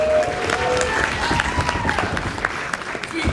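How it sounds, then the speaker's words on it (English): At a poetry slam final during a writers festival, the audience claps for the sound engineer, steady applause with a few cheers mixed in over about three seconds. "Give Aiden a huge round of applause."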